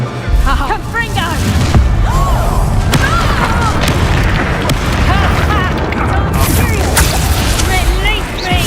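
Spell blasts, explosions and combat effects in the Hogwarts Legacy video game, including the Confringo fire spell, form a dense, continuous, loud mix with booms and bursts. Voices shout over the fighting.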